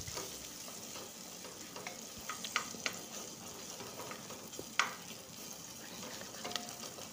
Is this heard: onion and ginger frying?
yes